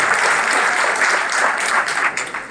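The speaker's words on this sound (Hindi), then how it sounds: "एक बार जोरदार तालियां" A crowd at a Congress party workers' rally backing candidate Dr. Ragini Nayak breaks into brief, loud, dense applause that holds steady and then tapers slightly at the end.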